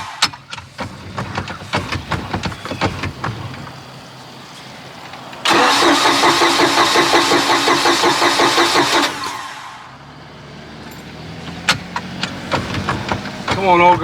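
A neglected Bayliner's 3.0 MerCruiser boat engine cranks hard for several seconds with a rapid, even churning beat. Scattered clicks and handling noises come before and after, and the engine does not fire.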